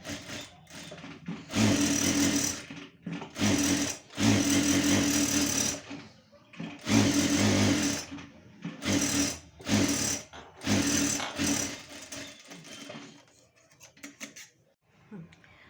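Sewing machine stitching a blouse lining, running in long bursts of rapid mechanical whirring separated by brief pauses, loud and close.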